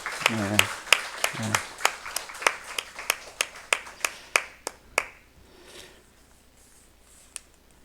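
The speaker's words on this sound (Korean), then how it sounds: "박수로 축복하겠습니다." A church congregation claps in a steady, rhythmic unison beat, about fifteen sharp claps over five seconds that then stop, leaving quiet room tone. A voice speaks briefly under the first claps.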